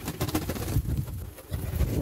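Pigeons cooing softly at a farm, low throaty coos repeating through the clip with a steady murmur of background noise.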